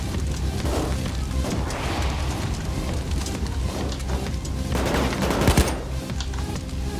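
Payday 2 video game firefight with dense bursts of automatic gunfire and loud booming shots and impacts, continuous and close, building to a heavy crash near the end, with no talking.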